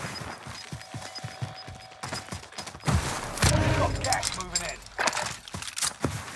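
Online shooter gunfire: a rapid string of close shots, then louder, heavier bursts and overlapping firing, with a player talking over the action.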